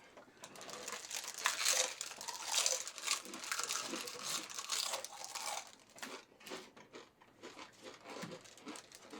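A One Chip Challenge wrapper is handled up close, giving off continuous loud crinkling and crackling that swells and fades in irregular bursts.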